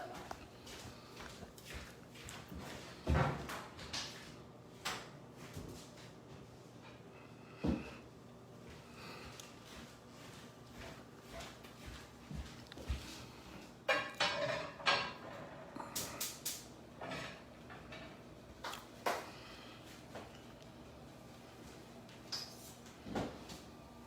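A tawa pan fetched from a kitchen cupboard, with quiet clunks of the door and metal, footsteps and rustling handling scattered across the stretch, plus a few louder knocks.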